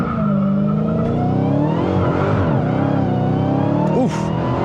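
A 2023 Dodge Challenger Black Ghost muscle car launches under launch control at low revs, its engine roaring loudly and climbing in pitch while the tires struggle for grip, with a short chirp near the end.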